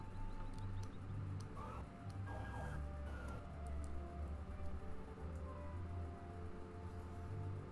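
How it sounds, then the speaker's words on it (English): A wailing siren rises and falls at a distance, blended into steady low traffic rumble and street noise, with no voices. "Heard sirens in Brian's background."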